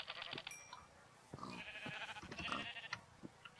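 Sheep bleating in the Minecraft video game, a few short wavering bleats close up alongside other farm-animal noises, fairly faint overall.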